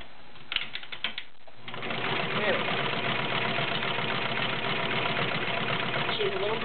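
A 3/4-size convertible Kenmore model 1030 sewing machine running a regular zigzag stitch, a steady fast mechanical whir and clatter that starts after a few faint clicks and continues close and even throughout.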